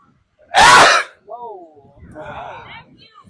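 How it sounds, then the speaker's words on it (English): One loud, explosive sneeze, followed by a short breathy sound and a bit of quiet talking. "You're gonna sneeze."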